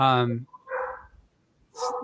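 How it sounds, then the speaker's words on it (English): Dogs bark indoors close by, a sharp harmonic bark opening the moment before dropping away, with people talking over the pauses and a brief burst near the end. "I can hear the dogs."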